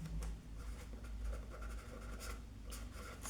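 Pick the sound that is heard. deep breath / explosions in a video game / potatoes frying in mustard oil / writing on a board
writing on a board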